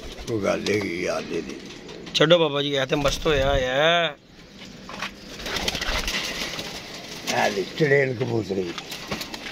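Pigeons coo softly beneath someone speaking, with an outdoor background. The talk stops briefly partway through, then resumes.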